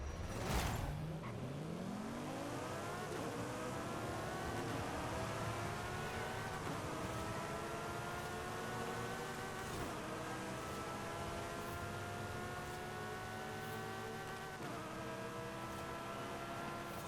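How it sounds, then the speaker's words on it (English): A Maserati GTS races in Forza Horizon 5, its engine revving hard and climbing through repeated gear shifts, each upshift dropping the pitch before it rises again, loud and steady with no talk. "we've got a single car race, which is the Maserati GTS, a car that I've never driven before"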